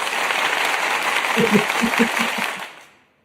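Audience applause, a dense burst of clapping with a few voices rising over it, loud and close before fading quickly to silence.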